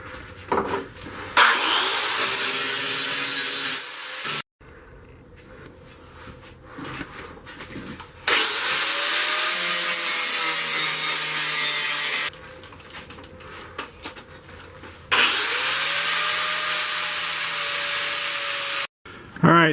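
Grinding a railroad spike into a knife blade, loud abrasive bursts of several seconds each, separated by quieter pauses with faint handling sounds, close up.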